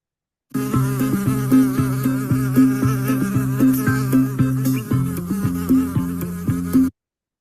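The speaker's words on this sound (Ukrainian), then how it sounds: "Так, це муха." A housefly buzzes steadily and loudly up close for several seconds, a droning, wavering hum with a pulsing rhythm and no voices over it.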